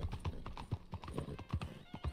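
Horse hooves clip-clop in a steady trot with a whinny in Red Dead Redemption 2, close and fairly loud across the whole stretch.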